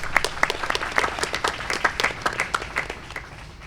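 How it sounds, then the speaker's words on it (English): Applause from the audience at a state board of education meeting, a modest group clapping with distinct, sharp individual claps that are fairly close and loud, rising and falling irregularly throughout. "That should get an applause."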